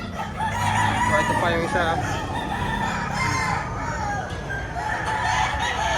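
Gamefowl bullstags crowing at a rooster farm, including a Gilmore bullstag and a Boston, loud overlapping crows and clucks close by, with someone talking briefly.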